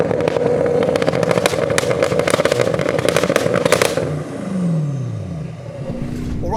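A single-turbo S8 car accelerates hard and close, its engine roaring steadily with popping crackles before the pitch sweeps down as it pulls away and the note softens.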